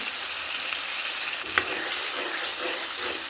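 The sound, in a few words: stirring fish curry with spices in a pan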